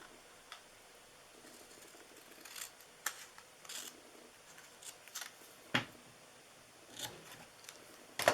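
A paper sentiment for a Santa triangle gift box being cut with scissors, a scattering of quiet crisp snips and rustles at irregular intervals against a faint hushed room, no talk.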